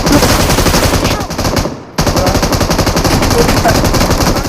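Loud, rapid automatic gunfire from a battle royale video game hammers out in fast bursts, dips for a moment just before the two-second mark, then resumes just as intensely.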